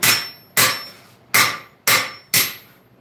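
Hammer strikes on a blacksmith's anvil during a workshop build, five sharp ringing blows at an even pace about every 0.6 seconds, each with a bright metallic ring that decays quickly, close and loud with no talking.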